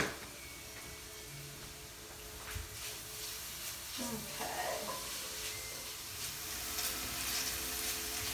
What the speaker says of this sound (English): while that bacon is cooking